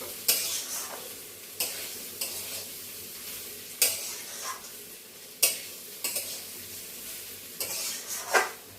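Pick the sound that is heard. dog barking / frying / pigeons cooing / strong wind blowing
frying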